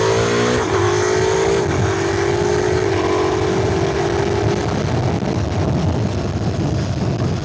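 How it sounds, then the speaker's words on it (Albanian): A Ducati Multistrada motorcycle accelerates hard on a mountain road, engine note rising through a gear change or two amid loud, rushing wind noise, close and continuous throughout. "Mënyra si ky motor përshpejton është realisht surreale."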